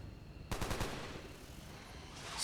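A burst of gunfire in the video game XCOM: War of the Chosen rings out as a quick volley of several sharp shots, then trails off into a low room hum, fairly quiet overall.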